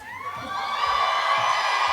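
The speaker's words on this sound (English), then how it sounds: "Give me your best hooping and hollering and clapping." A dinner-theatre audience at a dance performance event cheers and hollers, with a swelling mix of whoops and raised voices growing louder over two seconds; no distinct clapping stands out.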